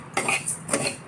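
Everyday rice grains are dry-roasted in a pan for metkut while a utensil stirs them, giving two short scraping, rattling bursts that stand out against a quiet background.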